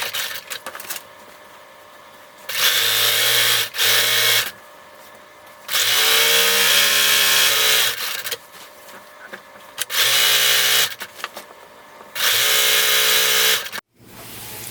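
Sewing machine stitching the front edge of a costume robe, loud steady motor bursts of a few seconds each, starting and stopping repeatedly with quiet gaps between runs.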